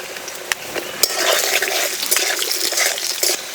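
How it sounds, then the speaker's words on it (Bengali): Potatoes fry in a pan with a steady, close hiss and crackle of sizzling oil that holds at an even loudness throughout, with a few faint taps and no voices. "আলু ভেজে নেব।"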